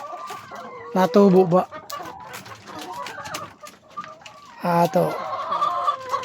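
Backyard chickens cluck in loud, repeated bursts near and far, with a person talking over and between the calls.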